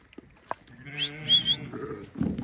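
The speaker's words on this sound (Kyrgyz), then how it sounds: "Негизи койлордун баарын сатыкка коюптур." One close sheep gives a clear, wavering bleat lasting about half a second on a farm where young sheep and lambs are kept, with a few soft thumps before it and rustling after.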